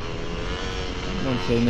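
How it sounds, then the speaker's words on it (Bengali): A motorcycle engine in a video game doing a wheelie, a continuous droning roar that rises in pitch toward the end, loud and steady. "এখন আমরা সে গাড়ি নিয়ে একটুখানি হুইলি মারার চেষ্টা করবো"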